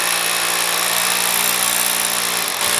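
A power drill whines steadily and loudly throughout, with a brief dip near the end before the motor picks back up.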